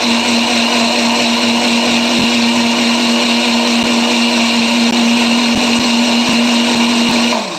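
Kitchen blender whirring steadily as it purees garlic and chili peppers for a mpek-mpek vinegar sauce, a loud continuous motor drone with a few brief clicks, no talking, stopping abruptly at the end.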